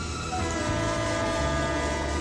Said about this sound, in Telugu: అరే ట్రైన్ వచ్చేసింది